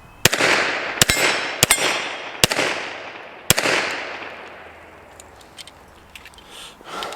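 Five sharp, loud pistol shots from a Kimber Longslide 10mm ring out at uneven intervals on an outdoor range at a plate rack, each followed by a long echoing decay, with faint metallic pings trailing afterward.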